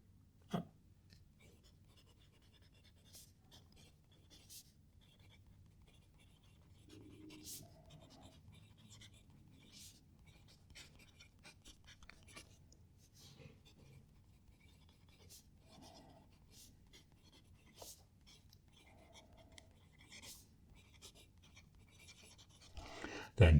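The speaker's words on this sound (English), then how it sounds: "Going to write a sentence." A dip pen loaded with fountain pen ink, Diamine All The Best or Red Dragon, scratches across paper while writing a sentence. The scratching is faint and close, with small rasps and taps and occasional quiet speech.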